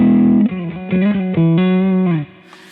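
Guitar played through an Eventide H9 Sculpt crossover distortion setting, a sustained distorted chord followed by a few shifting held notes, loud and alone before fading out near the end.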